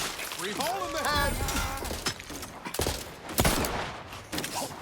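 Rifle gunfire in the video game The Outer Worlds 2, loud bursts and sharp cracks mixed with combat clutter, with character voices talking over the shooting.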